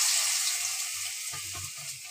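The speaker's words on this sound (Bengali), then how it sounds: "প্রত্যেকটা আগে ব্যাটারে চুবিয়ে নিয়ে ভেজে নিয়ে আগে" Egg pieces coated in batter fry in hot oil with a steady, close hiss and sizzle, joined by soft bubbling pops and a few faint low clunks near the end, no voices.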